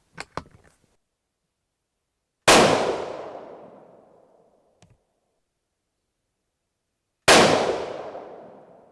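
Two sharp, loud .22-250 Remington rifle shots with long decaying echoes, spaced a few seconds apart outdoors, preceded by faint clicks of handling.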